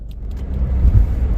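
Low steady engine rumble from inside a car on the road, heavy and close, swelling slightly for a brief moment with no speech.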